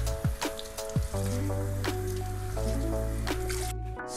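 Water drips and trickles close by while conditioner is rinsed from a realistic human hair wig by hand, with wet squishes and a run of small splashes, no talk.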